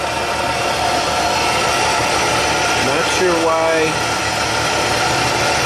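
A Nissan Xterra running rich with a P0172 fault idles hot at about 750 RPM, giving a steady, even engine hum throughout, with a brief spoken voice partway through.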